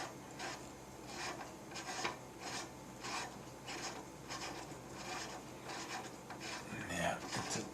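Steady rhythmic rasping and grinding as a two-piece lead bullet swaging die is slowly unscrewed, each turn scraping metal threads, close and faint.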